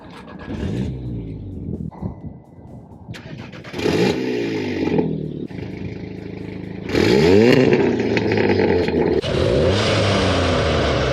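Volkswagen Golf R with a changed exhaust resonator revving up repeatedly, loud and close, each blip rising in pitch then falling away, with the last revs heaviest and longest.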